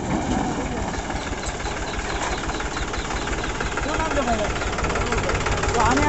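A tractor engine at full speed on a rural road near Khadek, Rapar taluka, chugs steadily and loudly throughout, a rough, knocking idle-like drone that builds slightly toward the end.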